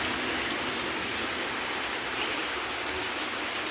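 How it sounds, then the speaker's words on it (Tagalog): Steady, heavy rain falls outdoors as floodwater rises, a constant, even hiss of broadband noise with no breaks, close and fairly loud throughout. "umuulan pa"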